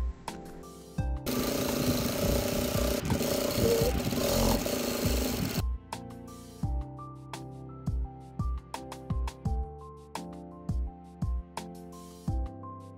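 A sewing machine stitches pockets onto fabric for a crossbody bag, first running in a long steady loud buzzing burst, then stopping and starting in short repeated runs with brief pauses between.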